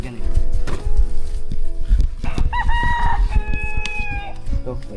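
A nearby rooster crows one clear, drawn-out call over a busy backdrop of clucking chickens, with people talking close by.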